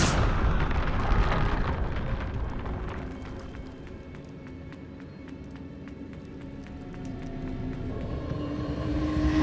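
Magical blasts from the Confringo fire spell in Hogwarts Legacy: a loud opening burst fades into a rumbling, crackling tail, and a fresh eruption swells near the end, with no one speaking.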